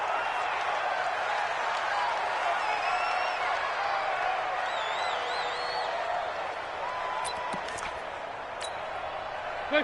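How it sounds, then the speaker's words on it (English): Steady stadium crowd roar from a PlayStation 4 football video game broadcast, loud and continuous throughout with occasional whoops and whistles rising above the dense noise. "Combined with this crowd noise, makes it very difficult to run offense."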